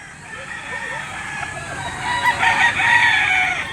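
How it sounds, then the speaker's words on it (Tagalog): Roosters crowing and hens clucking amid a busy poultry auction market in Lipa, Batangas, a dense layer of overlapping bird calls that swells louder toward the end. "ay apat na manok"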